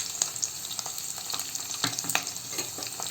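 Baby corn Manchurian sauce with chilli sauce frying in a pan over a low stove flame, a steady soft sizzle with scattered pops and crackles, faint and close.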